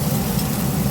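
Golden threadfin bream pan-frying in oil in a wok, a steady close sizzle with low bubbling rumble throughout, no voices.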